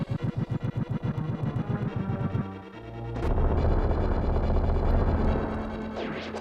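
Bombs exploding in The Legend of Zelda, Level Six Skull Dungeon, heard first as a fast chiptune-like rapid pulsing, then a loud sustained crunchy noise burst that rumbles on for several seconds.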